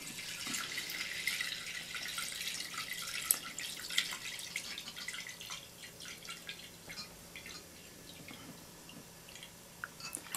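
Water trickles and splashes steadily into a donabe clay pot, a soft continuous pour with small drips and clinks, fairly quiet and close.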